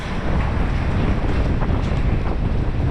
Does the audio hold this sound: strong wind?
yes